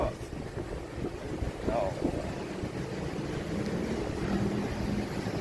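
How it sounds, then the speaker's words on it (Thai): Cool wind buffets the microphone on an open mall rooftop, a steady low rushing roar throughout with no clear speech. "ลมเย็นมากเลยนะครับ"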